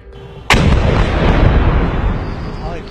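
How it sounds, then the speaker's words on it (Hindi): A sudden loud blast goes off after a brief quiet moment, followed by a long rumbling roar that slowly fades across the following seconds. "धमाका हुआ यहाँ पे।"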